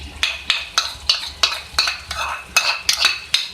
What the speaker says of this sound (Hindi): अच्छी तरीके से दही को फेंट लें।